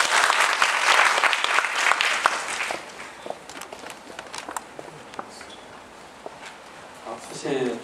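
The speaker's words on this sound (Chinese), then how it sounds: "我们是不是鼓掌欢迎我们李博士？" An audience at an indoor smart-city and BIM seminar applauds to welcome a speaker; loud clapping starts at once, thins into scattered claps and fades, and movement noise follows near the end.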